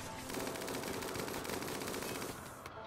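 Rapid automatic gunfire from a character in the colony game RimWorld, a continuous fast-repeating rattle of shots running steadily for nearly the whole stretch before cutting off at the end.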